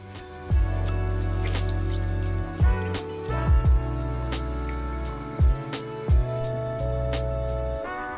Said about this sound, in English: You just kind of rub them on there and then just keep rinsing them